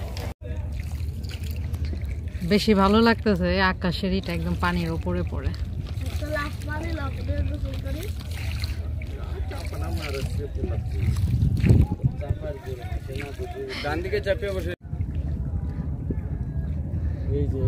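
A rowing boat glides through the clear water of a freshwater swamp forest in Sylhet, Bangladesh, with soft sloshing and wind under near-constant conversation from passengers.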